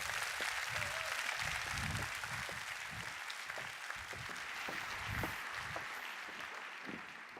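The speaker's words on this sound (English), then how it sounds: "Can I please get a big round of applause for your fearless leader and IFLA president, Miss Barbara Lison." Audience applause fills a large hall at the opening session of the 88th IFLA World Library and Information Congress general conference, steady and sustained clapping from a big crowd throughout.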